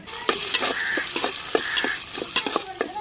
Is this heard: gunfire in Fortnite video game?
no